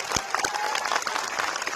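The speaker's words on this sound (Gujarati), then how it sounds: "આખા ગ્રુપ માટે તાળીઓ થઈ જાય જોરદાર" A crowd applauds an amateur group of performers at a Jai Bhim event, dense steady clapping with a few sharper claps standing out, sustained and fairly loud throughout.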